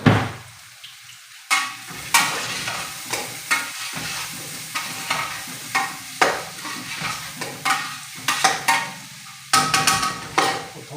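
Chopped onions frying in a pan for a goat karahi, stirred slowly with a spoon; steady close sizzling runs throughout, broken by repeated scraping strokes and light clinks at an unhurried, fairly regular pace.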